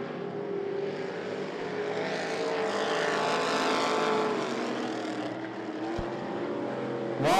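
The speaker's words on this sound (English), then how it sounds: "Roger Smith to the high side, down the back straightaway, going into 3." Race cars roar around the oval at I-75 Raceway, engines swelling steadily as the field passes close, with no talk over it.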